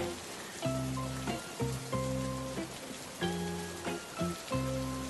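Rain falls steadily in a rainy-day scene from a 3D cartoon, a dense hiss of drops that runs behind repeated sustained music notes and stays at a moderate level throughout.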